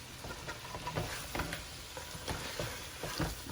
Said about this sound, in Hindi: चलें जी, थोड़ी देर भूनते हैं।